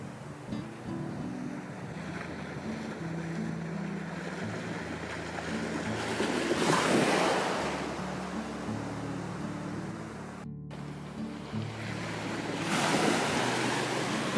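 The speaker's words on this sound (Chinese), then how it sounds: "浪花翻滚的时候很美" Sea waves roll onto a clean sandy beach on Pingtan Island, a steady wash of surf with two swelling crashes, moderately near, alone with no voices.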